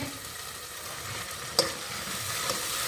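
Cumin and masala fry with a steady sizzle in a pan while a spoon stirs them, giving one sharp clink of metal partway through and a fainter tap near the end.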